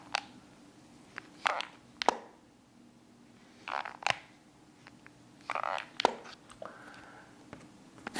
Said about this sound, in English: So that is the sound of the flipping of the Razr's hinge.